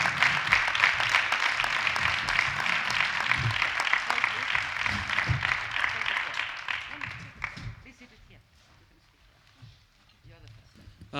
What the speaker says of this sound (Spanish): os pido un gran aplauso para nuestros compañeros internacionales